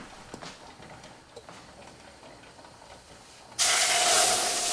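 Boiling mango pulp and water mixture poured into hot semolina for mango halwa, a sudden loud hiss bursting in near the end after quiet kitchen sounds and continuing strongly.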